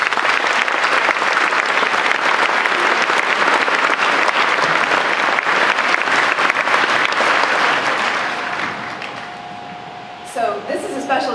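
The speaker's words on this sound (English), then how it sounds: "So a round of applause for them." Loud, sustained applause from the audience at a 2014 OCHS Veterans' Day program, dense and even for about nine seconds before fading out as a voice begins.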